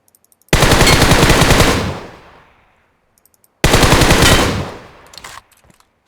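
Automatic weapon fire from the video game PUBG, triggered by a macro, roars in two long, loud, rapid bursts, each trailing off into echoing decay, with a near-silent gap between them.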